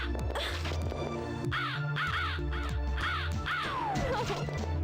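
Crow cawing in the Mask of The Ring video game, a series of loud, harsh repeated caws over a dense, constant musical backdrop.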